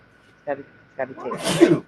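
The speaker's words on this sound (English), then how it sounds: "a heck of a sneeze" A single loud, close sneeze bursts out at the end, right after a person speaks briefly.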